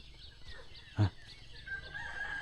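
Rooster crowing in a remote village surrounded by mountains and forest, one short crow standing out midway over a steady rural background of birds and ambient noise.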